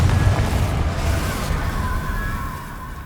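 Confringo spell blast in Hogwarts Legacy, a deep rumbling explosion that booms loudly at the start and then rolls on with a sustained low roar fading slightly over a few seconds.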